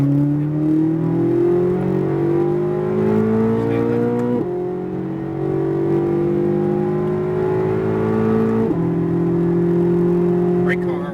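A Corvette Z06 driven hard on the SpeedVegas race track, its engine loud and close, climbing steadily in pitch through the gears with abrupt drops at each upshift, and faint talk underneath.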